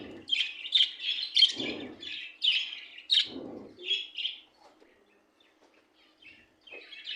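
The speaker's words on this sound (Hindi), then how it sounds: "अपने बजीज को आवाज़ें दे रहा है।" A caged budgie calls out to other budgies with bursts of bright chirps and squawky warbles, the calls coming in quick clusters and then thinning to softer scattered tweets, close and without talking.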